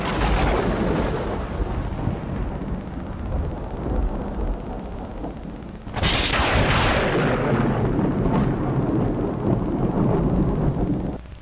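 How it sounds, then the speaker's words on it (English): Storm sound effect of thunder and lightning: two loud, rolling thunderclaps about six seconds apart, each breaking sharply and then rumbling away over a background of rain. "those storm and lightning sounds are very appropriate there in lightning round"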